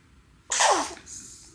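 A baby gives a single short, sharp sneeze in a quiet room, followed by a faint breath.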